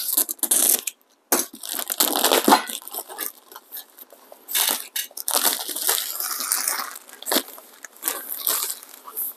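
Packaging of a manual hand coffee grinder being opened: close, irregular crinkling and rustling of box and wrapping in bursts, with brief scrapes and pauses between handling.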